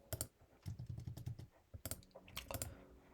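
Rapid, light typing on a computer keyboard, with clusters of quick key clicks separated by short pauses, close and fairly quiet.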